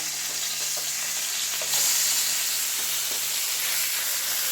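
Fish masala frying in a pan with curry leaves, a steady close sizzle and hiss, with faint scraping and a brief louder burst of sizzling partway through as the fish is flipped.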